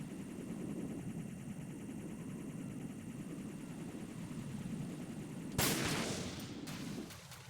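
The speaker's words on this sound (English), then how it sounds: "I want to shoot in his fucking camera." In Metal Gear Solid 2, a single sharp gunshot is fired at a camera and cracks loudly over a steady low rumbling drone, followed by a brief ringing tail.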